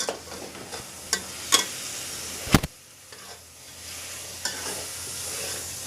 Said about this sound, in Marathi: आपले मसाले हे पण ऍड करते दही पण एक मोठा चमचा दही घेतलंय मी